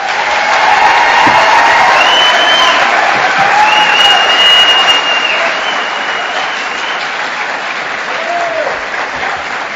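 Audience at a Livingston County Republican sheriff candidate debate breaks into sustained, loud applause for the candidate introduction, steady clapping from a full room with faint cheering and crowd murmur, tapering slightly toward the end.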